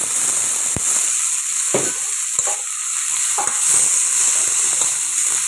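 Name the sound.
tomatoes frying in a hot pan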